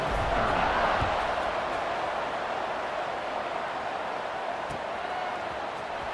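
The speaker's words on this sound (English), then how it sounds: "this crowd is buzzing after that last score" A large stadium crowd at a Hawaii versus Wisconsin college football game keeps up a loud, steady roar and buzz after a score, a dense wash of voices with no single shout standing out.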